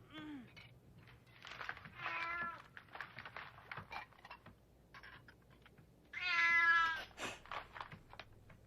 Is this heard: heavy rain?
no